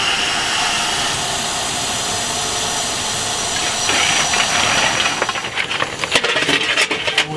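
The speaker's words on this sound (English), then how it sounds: "Right now we're starting the air compressor." Soo Line 1003, a Mikado steam locomotive, has its air compressor starting up: a steady loud hiss and mechanical drone that builds, then breaks into rapid irregular chuffing pulses near the end, close by.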